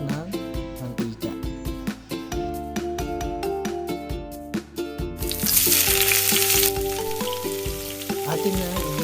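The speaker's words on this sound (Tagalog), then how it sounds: "Atin na igisa ang sibuyas." Onions are sautéed in a little cooking oil in a pan, a sizzle that surges into a bright, loud hiss partway through, under steady background music.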